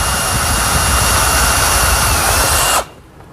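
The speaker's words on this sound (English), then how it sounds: "drill a pilot hole" A power drill bores a pilot hole for a cabinet door hinge in a woodworking shop, a loud, close, steady whine that stops abruptly after about three seconds.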